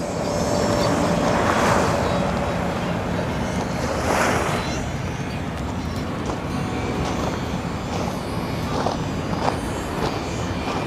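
Waves crash and wash continuously along Manila Bay's Dolomite Beach on an afternoon, with gusts of wind buffeting the microphone and no voices.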